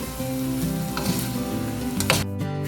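Cold rice slowly folded with a spatula into chicken fried rice in a hot pan, a steady sizzle with soft scraping strokes and a brief sharper clatter near the end.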